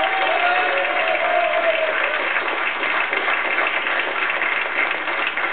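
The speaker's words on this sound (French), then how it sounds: "On peut l'applaudir également." An audience applauds in a dense, steady wash of clapping that continues unbroken for several seconds, loud and close.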